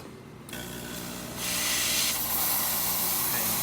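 An espresso machine hisses with a sudden burst of pressurized hot water that grows louder into a steady, broad spray, close by with no voices.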